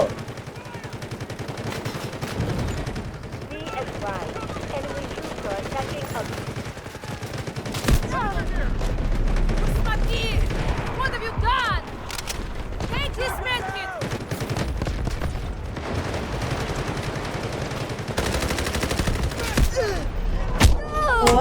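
Gunfire rattles through a video game shootout: repeated bursts of automatic fire and single shots, loud and close, mixed with player voices talking and shouting over the action.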